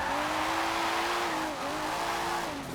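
A Nissan Fairlady Z with a roll cage slides rear end out in the racing game Forza, its tires holding a loud, wavering squeal over a close engine roar across the whole stretch.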